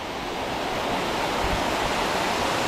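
A steady, unbroken rush of water flowing into Laurel Lake while the lake sits low. The dense, even roar stays constant and close, with no voices.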